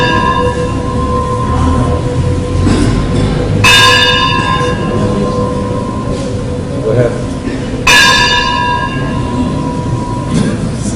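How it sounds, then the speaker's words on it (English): A bell rings during a Hindu arati service, with two bright clanging strikes ringing out over a dense, loud background of continuous rumble and crowd noise, with talk throughout. "After the bell stops, it'll come on again."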